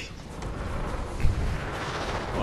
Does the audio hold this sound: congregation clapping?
no